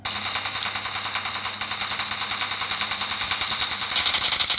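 Rapid automatic QBZ rifle fire in the video game PUBG Mobile, a continuous loud stream of evenly spaced shots lasting several seconds.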